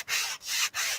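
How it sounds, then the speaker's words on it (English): Light hand sanding of a painted round wood sign with 220-grit sandpaper: three smooth back-and-forth rubbing strokes, close and soft, each swelling and fading in an even rhythm. "this one I got probably a little too much sanding action going"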